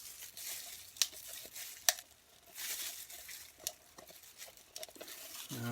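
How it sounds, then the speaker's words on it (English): A knife scraping the sides of a container of edible-making product, heard as faint, close scrapes and taps with a couple of sharper clicks, no talk. "Now I'm scraping the sides, getting all I'm going to get."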